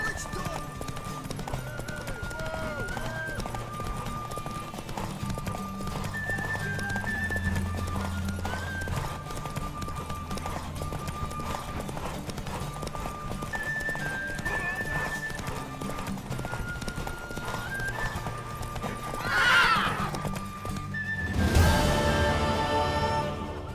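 Horse hooves clip-clop steadily in the Witcher 3 video game, with background music throughout and a loud neigh near the end.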